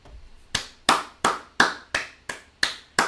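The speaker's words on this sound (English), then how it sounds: "Chat, clap it up with no hands" One person claps alone, about nine crisp, evenly spaced claps at a steady tempo, close and distinct, each followed by a brief room decay.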